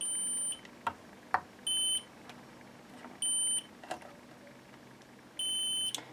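A continuity tester gives four short, loud electronic beeps at regular intervals, each about half a second long, with faint clicks and tapping in between, during refurbishment of a Watkins Rapier 33 guitar.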